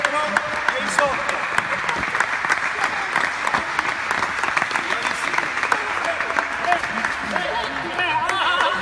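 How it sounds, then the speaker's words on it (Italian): Sustained applause from a crowd, steady clapping throughout with scattered voices mixed in, fairly loud and close. "Un applauso."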